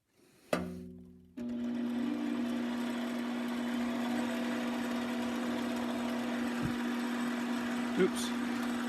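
A metal lathe spins up while a spinner ring band is being turned, its steady motor hum starting with a thump and then holding even and close, with a brief knock near the end.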